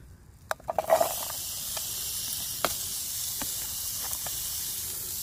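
Onions drop into hot oil in a camp pan during backpacking cooking of spaghetti bolognese, then a sharp burst of sizzling settles into a steady close hiss with a few faint clinks of the pan.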